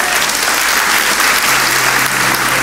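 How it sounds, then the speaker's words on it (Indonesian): Dense, loud applause from a large church congregation, sustained and even throughout with no clear voices above it. "Kasih tepuk tangan untuk Tuhan."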